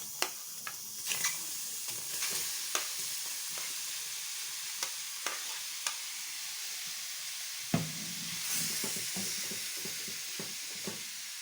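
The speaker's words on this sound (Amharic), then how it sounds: "ትንሽ ቲማቲማችንን እናደርግበታለን" Tomatoes drop into a hot, dry frying pan and hiss with a continuous sizzle, punctuated by light spatula taps and a sudden louder burst of spitting partway through.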